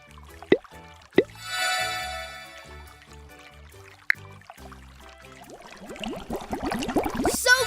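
Cartoon water leak dripping: a few sharp, distinct drip plinks up front, then a bubbly trickle of running, pouring water that grows busier and louder toward the end, with no voices.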